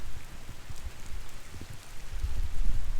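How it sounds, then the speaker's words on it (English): Steady heavy rain patters and splashes on a horse arena nearby, a continuous wash of drops with no voices. "it's been raining like crazy"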